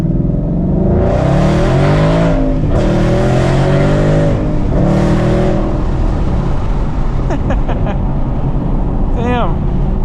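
A supercharged 2014 Roush Stage 3 Mustang engine roars and revs hard in repeated bursts, rising and falling through acceleration, with some chirps near the end.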